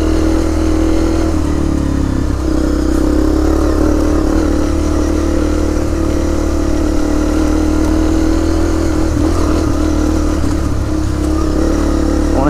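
A Honda CRF250L rides along with two-stroke dirt bikes, a loud, close, continuous engine drone with the throttle gently rising and falling throughout.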